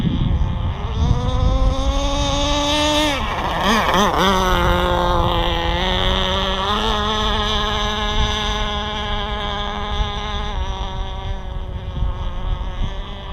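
An AquaCraft Top Speed 3 RC boat with a K&B 7.5cc glow engine screams loudly and steadily on a small pond, its pitch dipping and wavering as the throttle changes before settling into a sustained high whine.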